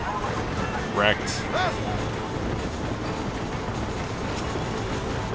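A steam train engine running in the Western video game Red Dead Redemption, a steady loud rumbling rail drone with brief squeals and whistling tones early on, heard with someone talking over it.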